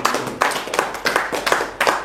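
Church congregation clapping at a sermon, a fairly close, steady rhythmic pattern of hand claps lasting a couple of seconds with no voices over it.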